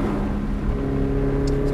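A Toyota GT86 pulling hard on a track at Chichester, its engine note rising steadily and loud as the throttle comes back on, close to the car throughout.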